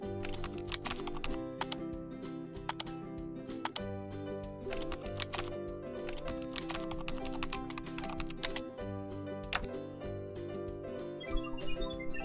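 Fingers type on a computer keyboard while entering an SQL query, a close, quiet run of irregular key clicks with a few heavier strokes, like the enter key, across about twelve seconds with no talking.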